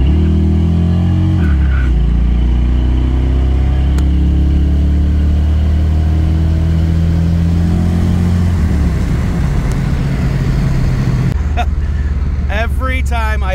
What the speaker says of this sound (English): Every time I hit the throttle on this car, it gets better and better.